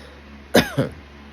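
A person coughs twice in quick succession, close and sharp, with a short gap between the two bursts and quiet before and after.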